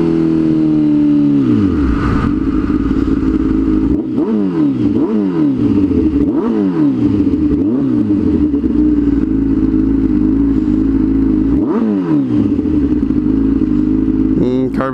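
A Ferrari 488 sports car with carbon ceramic brakes on a downtown Phoenix street, its engine droning loud and close with repeated sweeping rev rises and drops, like gear changes, throughout.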